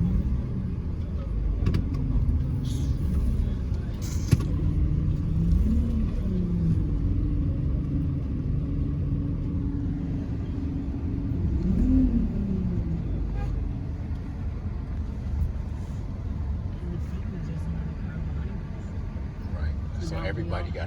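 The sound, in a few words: cars moving in street traffic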